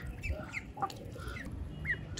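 Ducks and chickens eat cooked rice on a rooftop, with faint, scattered clucks and short bird calls over a low background.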